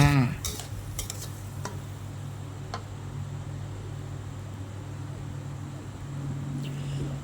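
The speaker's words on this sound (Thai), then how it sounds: "ผัดให้เข้ากันค่ะ" Apple snail curry is stir-fried in a pan, with a utensil scraping and clinking against the metal over a low sizzle; a few sharp knocks come early, then a steady, quiet stirring texture.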